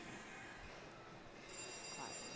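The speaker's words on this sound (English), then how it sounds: "And the phone's ringing." A telephone bell rings faintly in the background of a pub hosting a bowling league match, its ringing partly masked by room noise.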